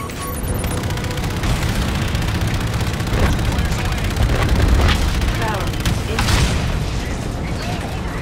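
Heavy artillery firing in the video game Call of Duty Infinite Warfare, deep booms and rumbling blasts under constant mechanical din, with radio-style voices talking over it.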